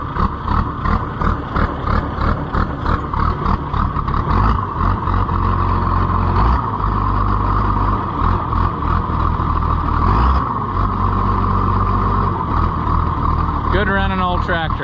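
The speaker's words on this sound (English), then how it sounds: "Good running old tractor." An old Allis-Chalmers 200 tractor engine runs nearby with a loud, steady, chugging idle and a rhythmic pulsing throb, with a brief shift in tone partway through.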